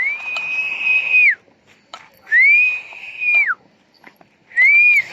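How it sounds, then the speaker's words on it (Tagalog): A person whistles three long, steady notes, each bending downward at the end, with quiet pauses between them, without blowing air. "sipol tayo na wala yung hangin"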